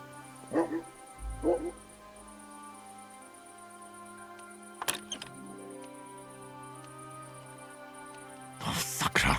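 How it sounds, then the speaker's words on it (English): A dog from the video game Kingdom Come Deliverance 2 gives a few short yips and whimpers over a steady game ambience, with later bursts of louder noise and a voice speaking briefly. "You silly doggy."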